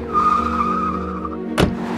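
Cartoon sound effect of a taxi pulling away, a steady car engine drone with a rising tone, capped by a sharp whoosh near the end.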